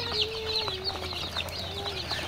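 Desi chicken chicks at a boarding batch of about forty birds cluck and peep in a steady stream of short calls, close by, with a low background hum and no talk.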